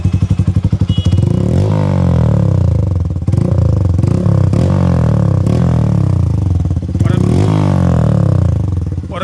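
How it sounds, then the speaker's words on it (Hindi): Hero Passion Pro BS6 motorcycle fitted with a modified aftermarket exhaust, revving loudly and continuously up close with a deep, bassy throaty note, repeated blips of throttle rising and falling throughout. "ये थी कुछ रेंज एग्जॉस्ट की पैशन प्रो पे जो हमने आपको सुनाई"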